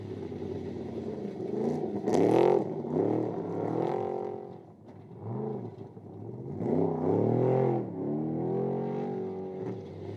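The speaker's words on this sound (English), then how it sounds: "Sanderson powered back into contention, overtaking Gallard on the final lap." Race cars on the final lap, engines revving and rising and falling in pitch as they pass fairly close, with a continuous droning roar throughout.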